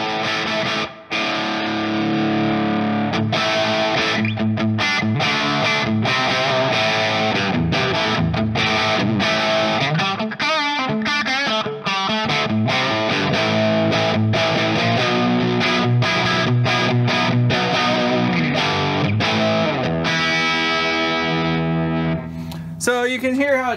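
Electric guitar through a hand-built amplifier with a clone boost pedal adding grit, sustained chords and picked notes ringing with mild distortion and some echo, loud and continuous before cutting off at the end.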